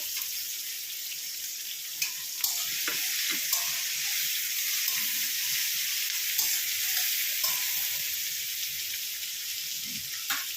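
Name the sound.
chopped chilli and garlic frying with onion in pan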